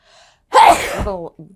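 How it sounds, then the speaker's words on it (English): A single sharp sneeze bursts out after a quiet inhale, followed by a short breathy voiced tail, close and loud. "I gotta sneeze."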